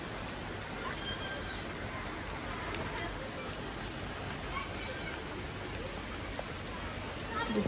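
Midday rain pours steadily past a window onto a rooftop where children play, an unbroken hiss of drops with scattered sharper splashes, close and constant, with faint voices mixed in near the end.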